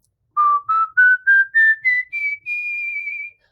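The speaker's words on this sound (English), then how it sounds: "I'm breathing air in, or we can whistle out." Whistling done while breathing out, a close, bright series of about seven short notes stepping upward in pitch, then a longer sustained final tone, clean and fairly loud.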